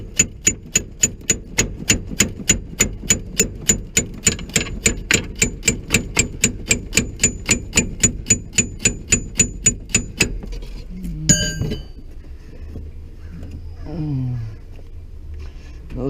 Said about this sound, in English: Can I get this hammer past these brake lines?